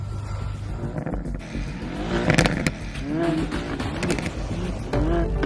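A Mercedes-AMG A45, the smallest AMG engine, launches in a drag race against other AMG models, engines revving and rising in pitch with repeated upshift sweeps amid close, loud road noise.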